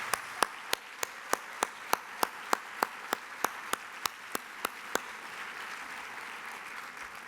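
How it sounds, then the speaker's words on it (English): Audience applause for award finalists at the 2019 Texas Environmental Excellence Awards banquet: a steady run of sharp, evenly spaced claps over a faint wash of crowd noise, stopping after about five seconds. "Let's give all of our finalists a big round of applause."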